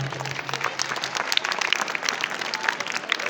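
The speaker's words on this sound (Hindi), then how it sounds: "एक बार तालियों से उनका स्वागत।" A crowd at an annual day celebration applauds to welcome a district councillor, many hands clapping loudly in a thick, continuous patter with sharp individual claps standing out close by.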